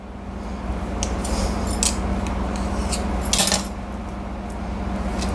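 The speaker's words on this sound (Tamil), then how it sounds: "இதை இப்போது நம்ம இப்படி கட் பண்ணணும்." A knife slices through tightly rolled dough for a crispy tea-time snack, giving several short, crisp cuts and clicks against the board over a steady low hum, with no voices.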